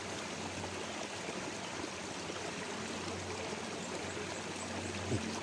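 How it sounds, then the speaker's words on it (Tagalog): A small stream flowing in an outdoor spot, heard as a continuous, even trickling wash of water at moderate distance, steady throughout with no talking. "Nakita nyo may sapa, so ito na yun no?"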